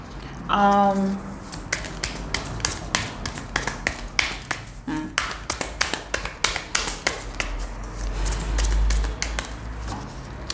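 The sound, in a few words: shuffling tarot cards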